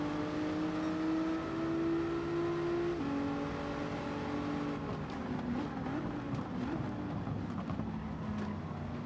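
Race car engines at Suzuka in Gran Turismo 7 during a GT4 race, a sustained high droning engine whine holding pitch, then dropping and shifting as the cars brake, steady and prominent throughout.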